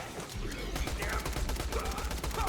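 A Tediore SMG firing shock bullets that reflect in Borderlands The Pre-Sequel, rapid continuous bursts of electric-tinged gunfire crackling steadily under a voice talking.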